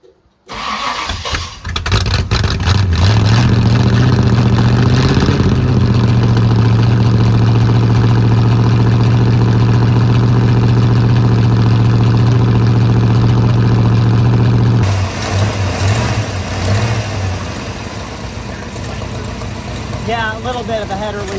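A ratty big-block Ford Thunderbird, sitting for two years with starter issues, cranks and fires up, then settles into a loud, steady rumbling run with a header leak; the tone shifts partway through, with faint voices in the background.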